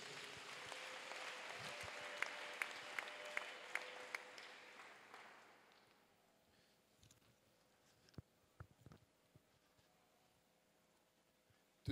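A church congregation applauding, with loud crowd clapping at first that fades by the middle, leaving scattered quieter claps and background sounds afterward.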